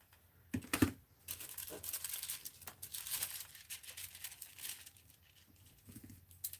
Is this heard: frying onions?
no